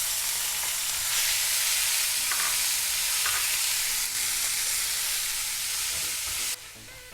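Finely chopped onions fry in a pan with cloves and green cardamom, giving a close, steady sizzle and hiss, with occasional stirring scrapes and a drop in intensity near the end.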